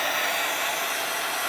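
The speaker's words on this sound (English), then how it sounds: "Let's take a heat gun and just dry it a bit." A small, inexpensive heat gun blows steadily over wet watercolor paint on a wildflower painting, giving a continuous close airy whoosh with no break and no talk.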